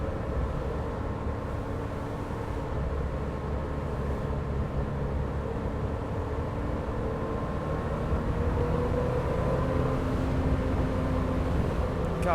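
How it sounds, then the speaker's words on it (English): Porsche Boxster S 550 Spyder with a six-speed manual driving on backroads early in the morning, its engine a steady low drone heard from inside the cabin alongside road rumble, with no talking. "God, this is a great sounding engine."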